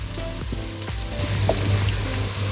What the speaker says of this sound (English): Okay, you can see now the onions are starting to brown up nicely and caramelize.